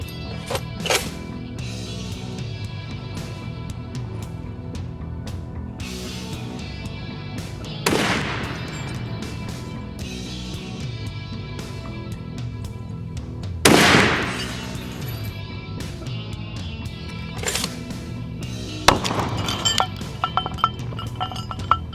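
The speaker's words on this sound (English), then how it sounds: "We're gonna use a 50 BMG armor piercing incendiary round." Rifle shots with 50 BMG armor piercing incendiary rounds fired at Thor targets, several loud sharp reports spaced apart, with metallic clinks and ringing between them.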